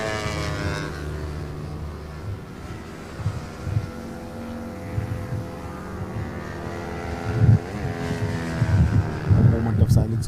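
Racing motorcycles at the TVS Eurogrip endurance race at the Madras Motor Race Track, several engines whining and droning as they pass, rising and falling at middle distance beneath commentary.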